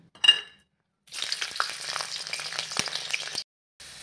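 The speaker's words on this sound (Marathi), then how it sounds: "आता आपण लसूण छानपैकी भाजून घेणार आहोत." Garlic roasting in a pan, heard as a steady stretch of frying sizzle with a few scrapes of stirring, after a short clink at the start and brief pauses around it, close and moderately loud.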